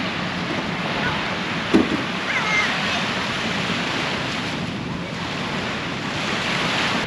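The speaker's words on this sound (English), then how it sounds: "it's a shame it's so windy." Steady wind gusting across an open microphone on a beach at Ningaloo Reef, Western Australia, a broad roaring rush with surf underneath, continuous throughout.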